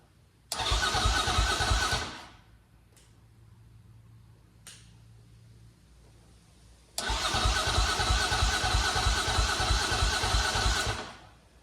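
A 2008 KTM 530 EXC motorcycle engine started with a little choke, catching into a loud, close, rough running burst that cuts out, then a quieter idle-like hum and clicks before a second loud run.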